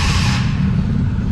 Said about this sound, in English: That's you grinding your starter.